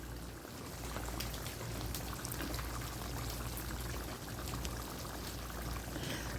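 Mutton stew simmering in a covered pot, a steady low bubbling and watery hiss that runs evenly throughout at a moderate, close level.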